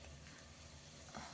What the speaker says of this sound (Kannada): ನೋಡಿ ಫ್ರೆಂಡ್ಸ್ ಅದು ಫ್ರೈ ಆಗ್ತದೆ.